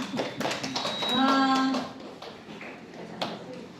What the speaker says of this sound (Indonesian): Tepuk tangan untuk Ibu Maya.